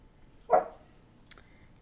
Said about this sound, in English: She must hear someone barking outside.